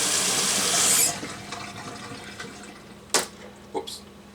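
Tap water runs loudly over raw chicken being rinsed in a kitchen sink for about a second, then cuts off, leaving quiet room tone with a couple of short splashes or knocks near the end.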